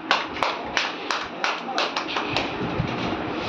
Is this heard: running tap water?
no